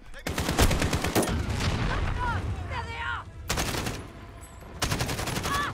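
Loud bursts of automatic gunfire in Call of Duty: Modern Warfare, rapid rattling volleys broken by short pauses, with voices calling out in between.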